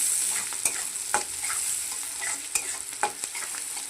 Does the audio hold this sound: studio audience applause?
no